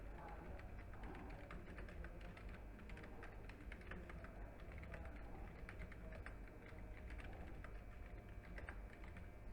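Quiet, steady typing on a computer keyboard, a continuous run of soft key clicks at an even pace under low background hum; no speech.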